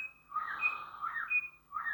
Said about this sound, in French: Ah, désolé pour l'oiseau.